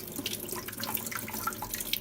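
Water runs from a tap in a steady, close splashing stream, without any voices.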